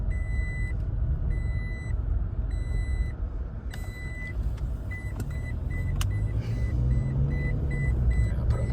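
A car's seatbelt warning chime beeps in regular, evenly spaced bursts over steady engine and road noise inside the moving vehicle, then the pattern changes and quickens partway through.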